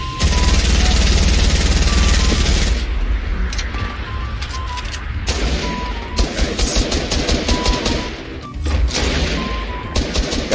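Rapid bursts of gunfire crackle through a battle royale video game firefight, loud and dense for the first few seconds, then continuing as scattered shots and bursts.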